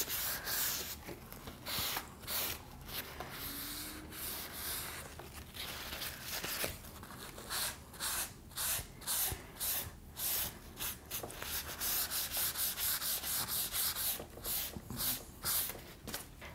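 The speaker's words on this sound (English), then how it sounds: "I'm gonna do a little bit. Get into the corners and the edges." Painted furniture is hand-sanded along corners and edges for a distressed shabby chic finish, a close scratchy rubbing in quick repeated strokes that starts irregular and settles into a steady back-and-forth rhythm.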